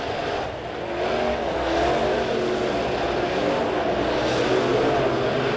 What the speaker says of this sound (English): Going down the backstretch, Yeoman again looking at the top side.